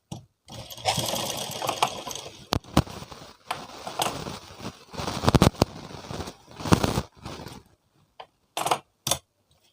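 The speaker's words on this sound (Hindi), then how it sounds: "एक सिलाई और लगा लेंगे ताकि बाद में लूज़ करने में आसानी रहे।" Sewing machine stitching a blouse sleeve, running in loud, rapid mechanical bursts of varying length, separated by brief pauses and ending in a few short stop-start runs, alone without talk.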